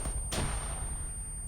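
A frag grenade blast in ArmA 3, one sharp broadband burst cutting through steady low rumble of the game soundscape, then tailing off; no voices.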